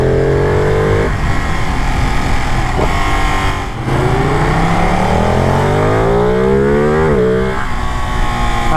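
Ducati Panigale L-twin superbike engine revving hard, loud and close, with repeated climbing and falling throttle sweeps, a brief dip near the middle, then more rising revs.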